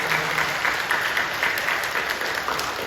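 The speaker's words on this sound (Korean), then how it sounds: "박수를 보내주십시오." A congregation at a Sunday worship service of the Incheon Full Gospel church applauds in a steady, dense wash of clapping that holds evenly for the whole stretch.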